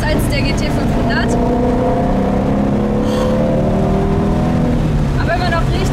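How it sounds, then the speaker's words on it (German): A Ford Shelby GT350's engine drones loudly and steadily while driving, its deep, continuous note shifting slightly in pitch, and someone speaks over it from inside the car. "Oh, der Wagen klingt so gut. Der klingt zwar anders als der GT 500,"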